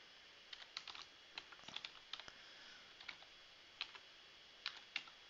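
Keys clatter on a computer keyboard while an environment variable is set, with irregular quick bursts of soft close clicks in a quiet room and no speech.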